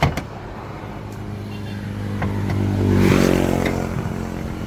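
A small 800cc Suzuki Alto engine idles with a steady low hum, swelling slightly as if revved, with a few faint clicks and rattles nearby.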